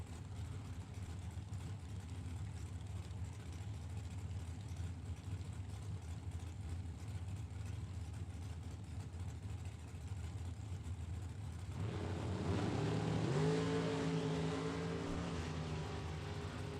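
Dragsters idling at a drag strip during a Super Pro race, a low steady engine rumble that swells near the end as rising revving tones climb over it.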